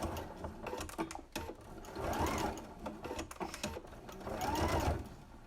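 A sewing machine back stitches elastic onto a fabric face mask, with rhythmic bursts of rapid close-up needle chatter separated by short pauses.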